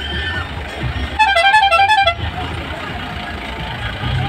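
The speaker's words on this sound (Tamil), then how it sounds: "ஹார்ன் அடிங்க ஹார்ன் அடிங்க" A jeep on a ride at Vagamon sounds its horn in a short burst of rapid pulsing toots lasting about a second, heard amid engine rumble and open-air background noise.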